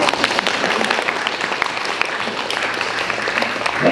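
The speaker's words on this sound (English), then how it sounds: "You guys can applaud too, by the way, if you want." Steady applause from an audience at a youth climate action holiday party keeps going without a break for several seconds, dense and even, with no speech over it.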